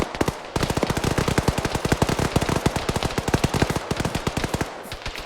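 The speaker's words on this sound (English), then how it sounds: "This is a lot of enemy shooting back at us." Heavy sustained automatic gunfire from an Arma 3 firefight near a bridge, dense rapid bursts of shots rattling almost continuously for several seconds, loud and close.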